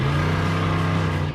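A Cadillac 4.1 liter V8 in a 1974 Chevrolet El Camino revs steadily with a deep, loud, continuous engine roar held close throughout, no voices.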